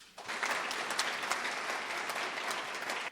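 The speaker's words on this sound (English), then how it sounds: "They all deserve another round of applause." An audience applauds at a formal oration event, a sustained, even round of clapping from a crowd heard at a distance, without talking, ending abruptly.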